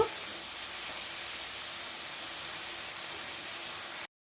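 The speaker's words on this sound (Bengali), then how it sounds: "অল্প একটু করে ভেজে নেব" Small pond shrimp frying in a little oil, giving a steady, loud hiss and crackle that runs unbroken from the start and cuts off abruptly near the end, with no voices.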